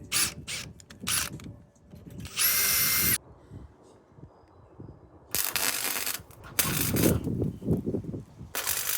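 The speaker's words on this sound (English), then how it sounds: "just drill a little hole in that kind of circle to allow gases to escape when I weld" A power drill whirs in loud, short bursts, drilling a small hole in metal pipe for a cargo bike frame, separated by pauses filled with quiet clunks and rattles of metal.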